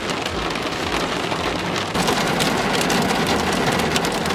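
Steady heavy rain falls after a hailstorm at the Bagni San Filippo hot springs, a dense continuous hiss of drops on surfaces that grows slightly louder partway through, with no voices.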